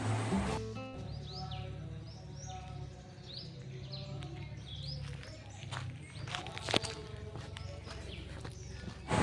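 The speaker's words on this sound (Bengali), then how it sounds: "পাখির ডাকগুলো শুনুন" Birds call around a quiet temple compound in Sambalpur, Odisha, with repeated short chirps in the distance over faint low ambience, plus a few soft knocks and footsteps nearby.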